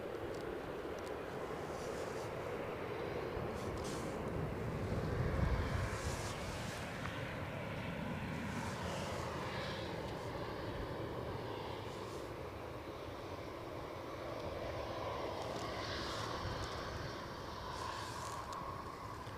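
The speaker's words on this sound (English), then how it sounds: "Next up, EasyJet to Berlin." An EasyJet airliner takes off at Edinburgh Airport on a windy day. Its broad jet roar holds steady for the whole stretch, swelling slightly partway through, with wind rumble and no talk.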